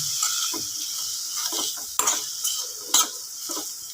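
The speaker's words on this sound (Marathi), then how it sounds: "हे आपल्याला याच्यामध्ये टाकायचं आणि मस्त छान फ्राय करायचं आहे" Peas and sweet corn stir-fried in a pan for pasta, a steady close sizzle broken by a few sharp scrapes and clinks of a spoon against the pan.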